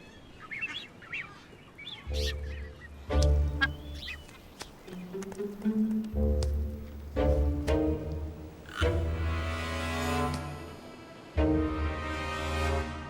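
A Nazca booby colony in the Galapagos calls in a busy chorus, harsh honks and squawks overlapping in bursts, some close and loud, with whistling cries mixed in.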